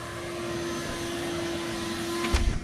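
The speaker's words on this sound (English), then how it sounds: "gonna vacuum so he can put the floor mats in" A vacuum cleaner drones loud and close while cleaning the interior of a new Boost Blue Honda Civic Type R, holding a steady whine with a brief bump near the end.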